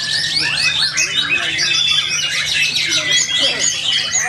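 A white-rumped shama (murai batu) sings at a songbird contest, a dense run of bright chirps, trills and squawky calls, near and loud, with other birds chattering in the background.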